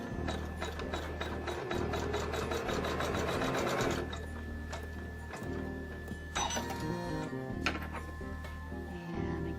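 An embroidery machine sews a seam on fabric, its needle hammering in a fast, steady mechanical rhythm, close and busy, with brief changes in pace as the stitching runs along.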